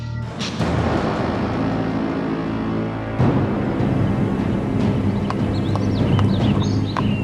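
Horses' hooves clip-clop steadily on the hard streets of New York City, where carriage horses once pulled tourists. The rhythmic hoofbeats are loud and close over a constant urban background hum.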